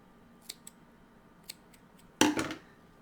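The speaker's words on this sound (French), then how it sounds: "Et on vient couper l'excédent de fil." Scissors snip off excess crochet yarn while a pumpkin-head Halloween doll's leg is finished. A few faint clicks come first, then one close, crisp cutting sound, alone with no talk.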